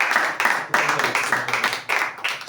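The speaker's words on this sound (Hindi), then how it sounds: "जोरदार ताली" A church congregation at a sermon on Jesus claps together in strong, rhythmic bursts, loud and close with no talk over it.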